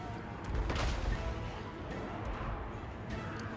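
Unit in Total War: Warhammer 3 being hit by gunfire during a Beastmen versus Vampire Coast battle, a dense rumbling crackle of shots and impacts at moderate volume, heaviest near the start, with faint battle noise throughout.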